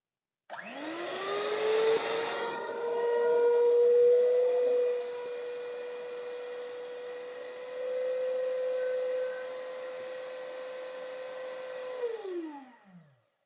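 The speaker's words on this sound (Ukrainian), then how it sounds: "Такий блендер." A small electric blender unpacked and switched on for testing runs alone with a steady motor whine that shifts pitch slightly as the load changes, then spins down and stops.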